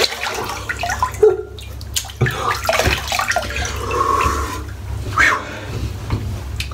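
Cold water splashes irregularly as a face is rinsed after a wet shave with a safety razor, with several sharp splashes and drips close by.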